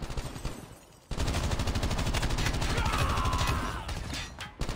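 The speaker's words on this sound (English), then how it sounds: "Getting shot from the side" Rapid automatic gunfire from the mobile shooter game Call of Duty Mobile, a dense sustained burst that begins abruptly after a quieter stretch and keeps up loudly for several seconds.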